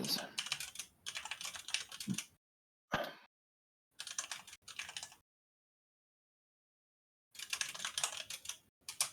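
Loud mechanical keyboard keys clack in quick typing bursts, broken by short pauses and one long silent gap before the typing resumes.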